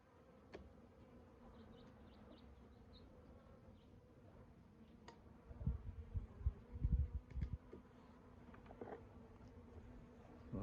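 Docile honey bees from Chile buzz steadily during a package installation, a continuous close swarm hum that swells louder and busier midway with bumps of handling.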